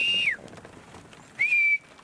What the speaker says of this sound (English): Those whistles mean it's okay.